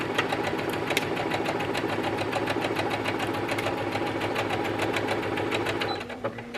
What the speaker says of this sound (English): we are now going to sew those shoulder seams using our 1 centimeter seam allowance that we just pinned